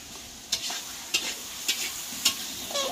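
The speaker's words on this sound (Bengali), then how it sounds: "এত বড় কড়াইতে আসছি, মাংস হচ্ছে" Meat sizzles in a very large wok over a strong fire while a ladle scrapes through it in four or five evenly spaced strokes. The frying is close and continuous, and nobody speaks.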